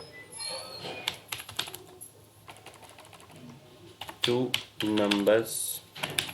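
Code is typed on a computer keyboard in rapid clusters of crisp, close key clicks, sometimes pausing, while someone speaks over parts of the typing.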